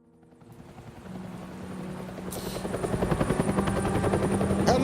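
A helicopter in a Batman video game approaches and grows steadily louder, its rotor chop building into a rapid rhythmic thumping over a droning engine whine.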